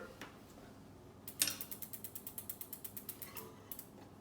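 The pad adjuster on an Avid BB7 mechanical disc brake caliper, on a Surly Disc Trucker bike, being turned through a quick, even run of about twenty small metallic clicks at close range, faint and without talk.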